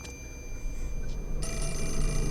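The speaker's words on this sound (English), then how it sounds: "Hello? The phone?" In Fatal Frame 4, a game telephone rings with a faint electronic tone that swells louder about halfway through, heard over a steady low background hum with no talking.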